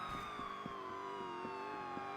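A police car siren from Need for Speed Most Wanted wails steadily and loudly throughout, its tone sliding slowly with faint game sounds beneath and no talking.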